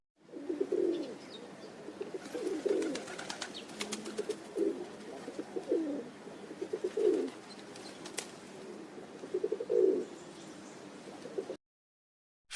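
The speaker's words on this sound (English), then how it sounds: "Pigeon." A pigeon coos alone in a steady rhythm, soft rounded calls repeating about every two seconds at moderate distance, with faint chirps from other birds in the background.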